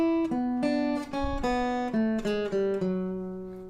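Short bluesy melodic fragment on guitar from a tune: a handful of plucked notes in a slow, steady line, each ringing clearly with rich harmonics, mixing fretted notes on the 3rd and 4th strings with an open string, played alone.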